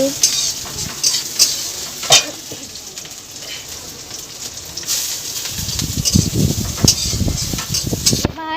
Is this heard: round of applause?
no